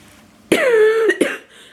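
Two or three harsh, raspy coughs burst out close to the mic, a strained rising wheeze between them, then quiet.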